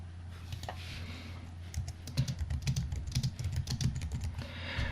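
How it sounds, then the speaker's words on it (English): Rapid typing on a computer keyboard during coding, a run of light, close key clicks that starts sparse and grows denser, over a steady low hum of background noise. "So if I come over here and I start typing right here,"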